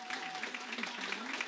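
An audience at a local talent show applauds for the performers, a quiet, even patter of many hands with a voice talking over it.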